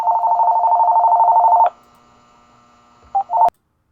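A phone sounds a long steady tone followed by two short beeps during a voice call, loud and close, with no talking.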